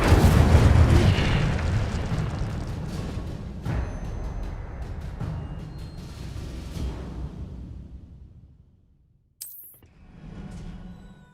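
A fiery spell blast from the Hogwarts Legacy video game on PS5 erupts as a loud, booming burst that slowly fades, then a short sharp crackle and a smaller whoosh follow near the end.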